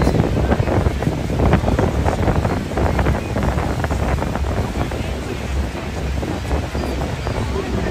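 Heavy water roars down at Niagara Falls, a dense, continuous rushing wash mixed with strong wind buffeting on the microphone, loud and unbroken throughout.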